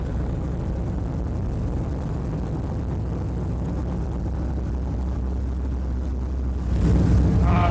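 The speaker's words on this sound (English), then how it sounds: "as the engine is idling" A car engine idles steadily and close by after a first start on a newly installed HP Tuners ECU, giving a continuous low rumble that swells slightly louder near the end.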